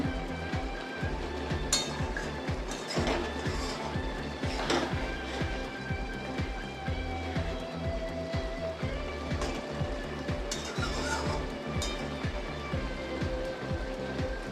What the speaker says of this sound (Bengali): আর একটু নেড়ে দিলাম বন্ধুরা